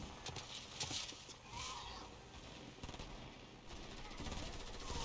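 Rapid bursts of gunfire from a video game ring out in uneven clusters, fairly loud and close, with scattered shots trading back and forth across a few seconds.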